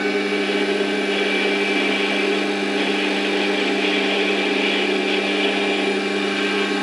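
Mini lathe running steadily through a very light skim cut on a shoulder, a constant loud motor hum with a high whine and no pauses.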